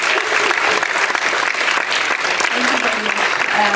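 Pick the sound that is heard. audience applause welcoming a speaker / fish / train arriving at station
audience applause welcoming a speaker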